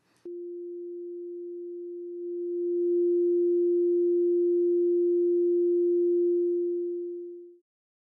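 An ADHDidi synthesizer sounds one pure, steady waveform tone at a single pitch, swelling slightly louder midway and holding for about seven seconds before fading out cleanly, alone with no voices.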